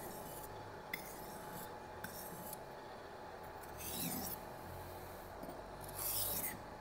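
A blade is honed on a sharpening stone at a workbench, giving quiet, steady rasping strokes that repeat at an even pace, with a few brief louder scrapes and no voices.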